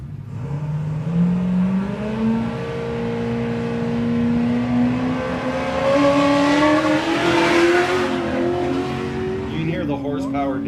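A four-wheel-drive Ultra 4 race car engine climbs through rising revs during qualifying at the High Desert 100 in Powell, Wyoming, loud and continuous, with a commentator's voice running over it.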